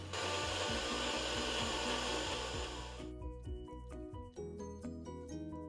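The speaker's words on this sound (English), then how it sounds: "Blend again, let it be more creamy." A blender whirs loudly for about three seconds while blending iced coffee to a creamy consistency, then cuts off. A rhythmic mechanical tapping and clatter continues quietly afterward.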